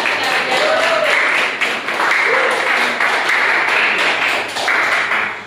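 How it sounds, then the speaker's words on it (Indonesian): Audience applause for a presenter at a class session, a steady broadband wash of clapping that continues for several seconds at fairly loud level, with a few voices mixed in. "kita berikan aplaus yang mulia untuk rekan kita"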